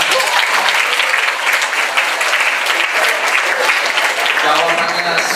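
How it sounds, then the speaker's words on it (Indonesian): Sustained applause from a seated audience at a mentor training seminar, dense steady clapping filling the room throughout, fairly loud and close, with no clear speech over it. "Oke, kita kasih tepuk tangan."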